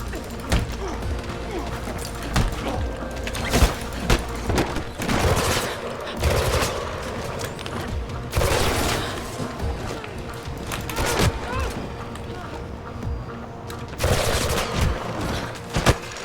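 Turrets in Mirror's Edge Catalyst fire repeated loud bursts of gunfire, with sharp impacts and crashes scattered among them and a voice talking between the volleys.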